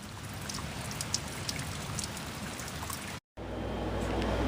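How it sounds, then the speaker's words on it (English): Steady rain patters softly and continuously, with scattered individual drops ticking nearby; the sound cuts out briefly and resumes. "since it's so dark outside and it's raining"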